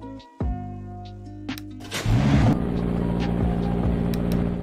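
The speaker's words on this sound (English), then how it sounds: "He revamped the startup sound, it seems, so I'll show that to you real quick." A McLaren P1 starts up in the Roblox game Car Dealership Tycoon. Short synthetic tones come first, then a loud ignition burst settles into a steady, close engine idle.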